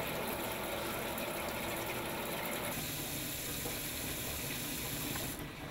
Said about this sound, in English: Then flush water lines for about 1 minute.